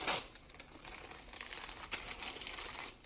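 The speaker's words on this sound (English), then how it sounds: "Then I am going to tear open my primary tubing" Plastic IV primary tubing packaging being torn open, a close, crinkly rustle of wrapper with a sharp rip near the start and scattered crackles throughout, no voices.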